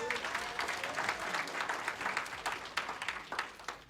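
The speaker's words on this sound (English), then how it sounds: "Thank you, Tim, and we'll give him another round of applause." Steady applause from an audience at a lifestyle company presentation, honoring a presenter named Tim; dense moderate clapping fills the whole stretch without pause, slightly distant.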